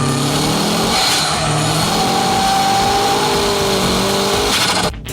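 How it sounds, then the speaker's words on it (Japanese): Drift car engine held at full throttle, heard from an onboard camera: a loud, sustained high-revving roar with rising harmonic pitch, abruptly cut off near the end. "端からアクセル全開、ビューってブレーキ組んで切り始めたらポン。"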